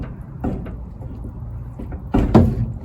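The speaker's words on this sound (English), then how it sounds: "it's completely catching the door" A Ford F100 truck door with a faulty catch is worked open and shut, giving a few dull clunks and knocks, the last ones louder and heavier, close by with no speech.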